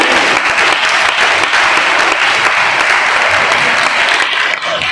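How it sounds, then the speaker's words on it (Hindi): Dense, rapid applause from a crowd, steady and loud throughout with no pauses. "ताली के इतना जल्दी से बजा रहे हैं, ऐसा लगता है कि ताली में भी तेजी लगा दिया।"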